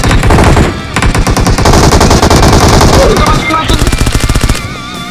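Rapid automatic gunfire in the mobile battle royale game PUBG Mobile, loud and dense bursts of repeated shots with brief pauses, continuing almost throughout.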